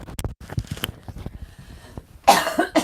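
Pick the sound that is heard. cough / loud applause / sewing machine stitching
cough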